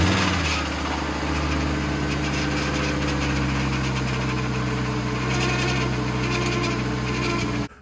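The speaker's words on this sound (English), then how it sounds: "Now, I need to see if this engine starts and runs just fine." A 2012 Volkswagen Jetta with crash damage, sitting unused for months, running at a steady idle nearby, a continuous even engine hum with a faint high whine, cutting off abruptly at the end.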